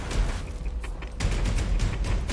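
Far Cry 6 combat around buildings during a shotgun fight, heard as a dense, rumbling wash of gunfire and booms. A heavy blast stands out partway through, with no speech.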